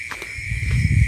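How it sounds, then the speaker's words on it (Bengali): Crickets drone at night along a dark road lined with dense trees, a steady high shrill chirring held under soft nearby footsteps. "দেখেন এই জায়গায় যখন যাব অনেক ঝিঝি পোকার ডাক"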